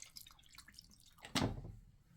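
A couple of drops of aromatic flavoring essence fall into a cup of hot water, a single soft drip standing out against a faint, quiet background.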